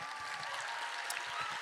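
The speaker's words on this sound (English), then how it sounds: "So yes, a round of applause for Jackie and Mindy." Audience at a youth poetry slam applauding, a brief, continuous wash of clapping heard from a distance, fairly quiet and even with no clear individual claps.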